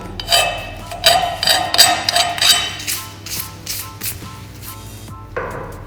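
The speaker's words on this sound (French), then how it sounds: "je vais enlever la petite bavure là qui est juste au bord avec un petit coup de lime" A small burr is filed off the edge of a metal part with a hand file while fitting grease nipples to the rear axle of a 205 GTI, giving a series of short, close scraping strokes with metallic clinks, with no speech.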